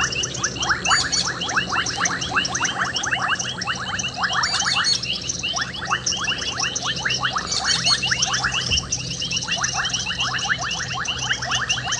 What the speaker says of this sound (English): With these beautiful frog sounds that we can hear